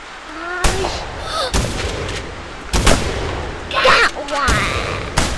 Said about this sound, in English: Alright, get your shotgun ready.